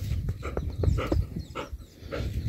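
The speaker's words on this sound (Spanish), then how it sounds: "Es un perro vaquero." A cattle dog raised among calves breathes in quick, close panting bursts, a rapid irregular rhythm of short huffs at moderate level outdoors.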